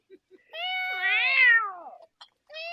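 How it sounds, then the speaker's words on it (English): A cat in heat lets out one long, rising and falling yowl, close and loud, framed by a few short faint sounds before and after. "That's called a cat in heat."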